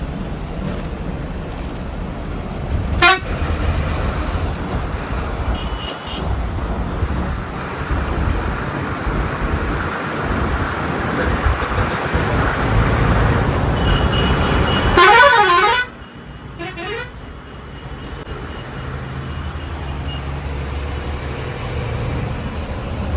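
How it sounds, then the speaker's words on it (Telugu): A Shyamoli multi-axle 9600 bus bound for Bengaluru rumbles along the road in Vijayawada amid traffic noise, with a short horn toot early on and a loud, sustained horn blast later. "మన ఎదురుగా చూడండి శ్యామోలి మల్టీ యాక్సెల్ 9600 బస్సు అయితే వెళ్తుంది"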